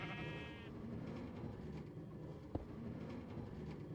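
A sheep bleats in the Minecraft video game, a short wavering cry near the start, then a quiet ambient background with a single sharp click partway through.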